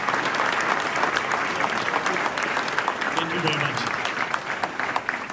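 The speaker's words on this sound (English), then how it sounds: "I'd like to ask you all to stand up and give a round of applause" A standing audience gives a round of applause at a Zimbabwe charity event, a broad, continuous wash of clapping from many hands; a voice speaks briefly over it near the end.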